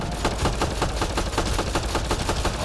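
Rapid automatic gunfire in the sci-fi shooter Mass Effect Andromeda, heard as a fast, evenly spaced burst of sharp shots that keeps going without pause through the clip.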